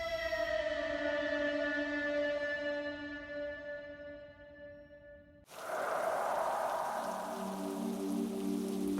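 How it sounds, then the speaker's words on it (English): A rain sound effect from an animated story, in which a sustained tonal wail fades out and is followed by a sudden, steady hiss of rainfall for the last few seconds. "feeling drops of rain on his face"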